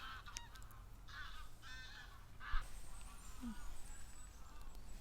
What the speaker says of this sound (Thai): เสียงนกเสียงกาเสียงห่าน งามบ่